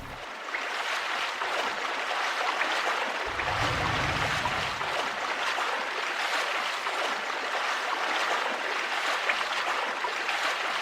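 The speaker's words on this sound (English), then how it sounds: "get the water flowing in the direction that we want" Flowing water in the video game Star Fox Adventures makes a steady, broadband rushing wash that continues without a break throughout, with a brief low rumble near the start.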